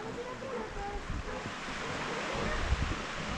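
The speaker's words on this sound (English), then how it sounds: "a little stream that's coming, bringing water down from the mountains and flowing into the sea" Water rushes steadily where a small mountain stream flows into the sea at Port de Soller, Mallorca, with a broad wash of surf and some wind noise and no talking, at a fairly even, moderate level.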